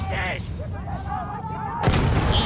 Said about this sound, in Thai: มีปืนใหญ่